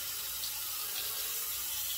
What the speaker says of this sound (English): all right, we'll rinse the face here.